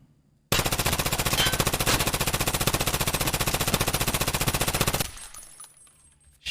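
A long, unbroken full-auto burst from an MCX rifle in Escape from Tarkov, loud and close, its rapid even rhythm running about four and a half seconds before cutting off into quiet.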